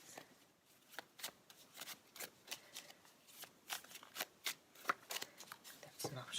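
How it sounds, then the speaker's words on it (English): A deck of tarot cards is shuffled by hand in quick, rhythmic riffles, each a soft, close flutter repeating steadily, with a voice speaking under it. "That's enough shuffling, splitting the deck 3 ways."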